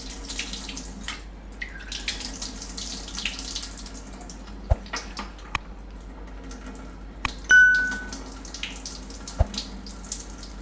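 Green peas being washed under a running kitchen tap: a soft, steady flow of water with scattered sharp clinks and drips, with no talk.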